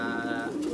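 Pigeons coo at a farm raising breeding birds, a low, throaty, continuous cooing close by, loud and clear with no talk over it.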